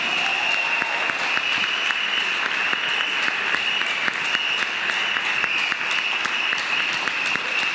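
A church congregation keeps up a thick, continuous round of applause, loud and even throughout, with no distinct speech above it.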